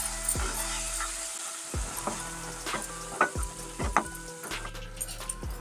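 Ginger garlic paste and turmeric frying in a pan for kakarakaya pulusu, with sharp sizzling bursts and repeated spoon-stirring scrapes and clinks close by, no voices.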